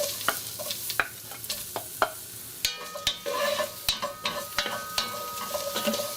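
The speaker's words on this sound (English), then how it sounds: "you're going to allow this to sizzle for about a minute or two before adding the pepper." Aromatics for Tom Kha Gai, a spicy Thai coconut soup, toast and sizzle in a pan over medium heat, with a steady frying hiss broken by frequent sharp clinks and scrapes of stirring, close and fairly loud, with no talking.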